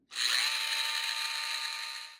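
A high-pitched Dremel rotary tool fitted with a Dremel 575 right angle attachment spins up quickly and runs at a steady, loud whine with a rough, gritty buzz layered through it, gradually tapering near the end.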